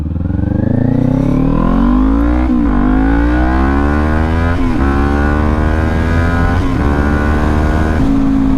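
A 400 motorcycle accelerates hard, its engine rising loudly through the gears with pitch climbing between brief dips at each shift, close and continuous.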